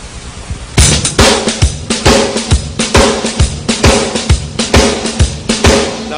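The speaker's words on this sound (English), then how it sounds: "it's actually like a shuffle Charleston figure." Drum kit playing a shuffle Charleston figure on bass drum and snare, close and loud with no talk: evenly spaced kick thumps under crisp snare hits and cymbal wash in a steady lilting triplet rhythm.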